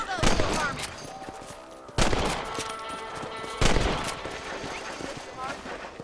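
Rifle shots at rabbits in Red Dead Redemption, three loud cracks spaced about two seconds apart, each trailing into a ringing decay, with talk and game ambience in between.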